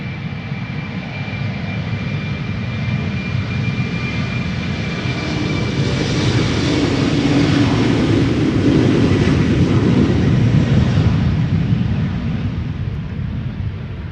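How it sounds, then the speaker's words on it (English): An Embraer 190 jet takes off at Amsterdam Schiphol, bound for London City, giving a loud, steady broadband engine roar close by that swells toward the middle and holds for the whole stretch, with no voices. "Embraer 190 off to London City"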